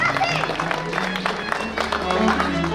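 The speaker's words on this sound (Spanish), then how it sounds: "Ahí están las palmas." Guests at a baptism celebration clap in rhythm, a dense, continuous patter of many hands mixed with crowd noise and music.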